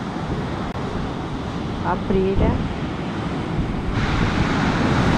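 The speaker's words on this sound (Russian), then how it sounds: "На море такой шторм, стою, аж дух захватывает, такие волны сильнейшие, ветер дует." Stormy sea at Anapa with strong waves and gusting wind, a steady loud roar of surf and wind buffeting throughout, while a person speaks briefly over it partway through.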